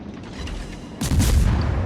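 Naval ship guns firing in a video game, a heavy booming salvo erupting suddenly after a low rumbling background and rolling on loudly and close.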